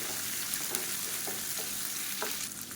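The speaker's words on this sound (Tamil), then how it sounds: "இது எல்லாத்தையும் நல்லா வதக்கணும்" Garlic cloves sautéing in a pan, a steady close sizzle of frying with faint scraping stir sounds throughout, no voices.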